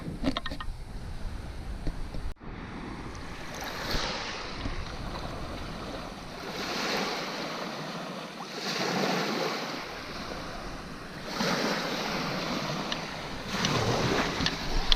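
Waves wash onto a beach tucked among the cliffs of the Lake Superior lakeshore at Pictured Rocks, surging and receding in steady rolling swells, with strong wind buffeting the microphone and no talk.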